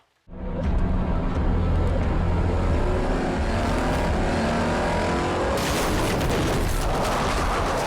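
A car drives over a sandbag in a dramatic street scene, a loud, close engine roar with rumbling thuds rising abruptly and sustaining for several seconds, with a bright rushing burst partway through and no voices.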